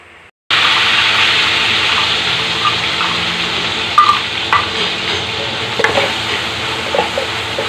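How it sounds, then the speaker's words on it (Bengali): After a moment of near silence, onion paste hits hot oil with a sudden loud sizzle that settles into a steady, close hiss with scattered pops and scrapes. "অয়েল গরম হওয়ার পর দিয়ে নেব পেঁয়াজ পেস্ট করে রাখা পেঁয়াজ"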